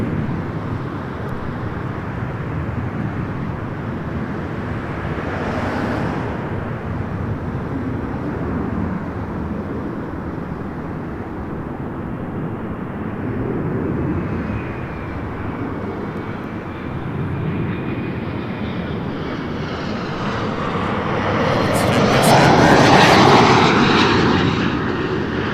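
A jet airliner lands on runway 24 right at Toronto Pearson Airport, its steady engine roar filling the scene and swelling louder toward the end as it passes close by.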